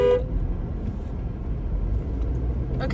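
A short car horn honk opens the clip from inside a moving car on a road, followed by steady low engine and road rumble.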